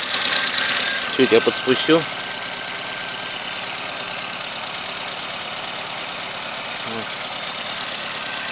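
A car engine runs at a steady idle during an injector flush, a low continuous hum close by, while someone speaks briefly near the start.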